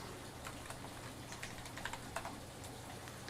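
Quick, crisp key clicks from a wireless mechanical keyboard being typed on, close and fairly quiet, in an irregular rhythm with no talking.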